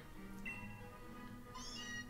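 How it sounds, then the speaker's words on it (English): Meowth's cry from the Pokémon Sword video game: a synthesized, cat-like meow with bright tonal calls that rise and fall over about two seconds, heard alone with no talk. "is it any different from the other, like, Meowth cry?"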